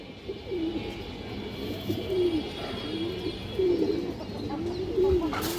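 A male Muslodom pigeon gives repeated low, rolling coos close by, about one each second, against a steady background murmur.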